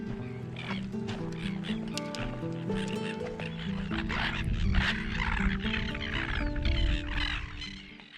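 Waterfowl by a lakeshore rock calling in a busy chorus of honks and quacks, some overlapping, fairly close and continuous with a faint low rumble beneath.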